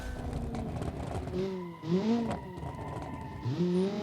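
A Group B Lancia rally car in BeamNG.drive revs hard through its gears with rising and falling engine pitch and tire squeal in the corners, loud and close, with no talk.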